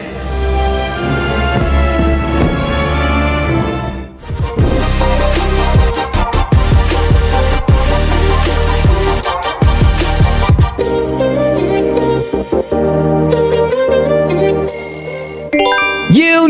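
A sequence of brand audio logos ending with the Walt Disney audio logo: loud, full musical passages with sustained tones and sweeping, bright chimes, playing continuously without talk.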